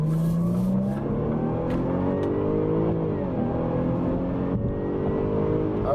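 A Jaguar XF S Sportbrake accelerates at full throttle, its engine note climbing steadily through the gears with brief dips at each shift, loud and continuous from inside the car.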